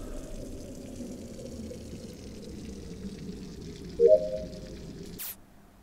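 A water-pouring task sound from the video game Among Us: a steady, low liquid gurgle and pour lasting several seconds, with a brief bubbly rise near the end before it cuts off, heard without talk.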